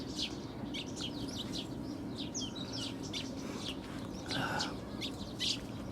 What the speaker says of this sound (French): J'entends les oiseaux.